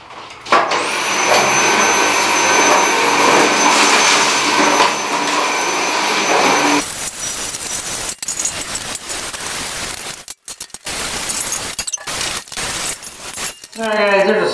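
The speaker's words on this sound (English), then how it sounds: "I brought my little mobile vacuum down here to try to vacuum this out before I sweep it out" A small portable vacuum cleaner runs loudly in a cellar bunker, first a steady whine, then rougher sucking and rattling bursts with brief cut-outs as debris is pulled in.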